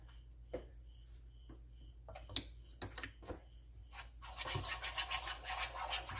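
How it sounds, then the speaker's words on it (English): A whisk works through a mixture in a bowl, starting as faint, sparse scraping and building into a steady, brisk rasping rhythm in the last couple of seconds, heard up close with no talking. "Go ahead and get your whisk out. And start whisking away."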